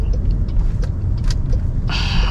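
A Toyota Innova Zenix Q hybrid drives through the city streets of Malang, Indonesia, heard from inside the cabin as a steady, close, low road-and-engine rumble, with a brief brighter tone near the end and no talking.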